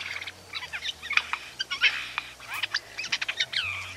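A recorded jay call plays back as a rapid series of short, harsh chirping and squawking notes, some bursts clustered and some spaced, fairly close with a faint low hum beneath.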